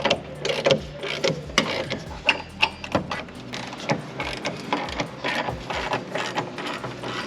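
A ratchet clicks in quick irregular bursts while subframe bolts are removed from a BMW M240i, with sharp metallic pawl ticks and short pauses between runs, close and fairly loud.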